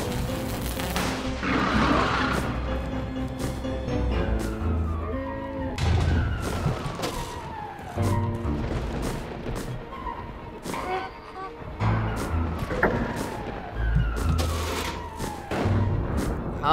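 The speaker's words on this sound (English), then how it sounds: "that explosion has a radius that is way too big!" Explosions in the video game Teslagrad go off as a series of booming, crashing bursts at irregular intervals, layered over game music and effects.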